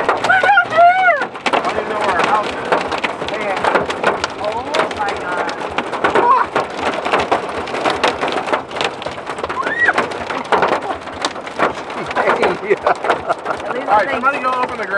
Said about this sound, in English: Yo, it's hailing on the fucking...